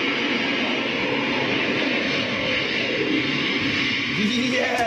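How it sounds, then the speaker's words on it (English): A jet aircraft roars past overhead as a broad, steady rushing roar that fills the scene at high volume, with a faint voice briefly audible underneath. "it sounds like a jet fighter flying past"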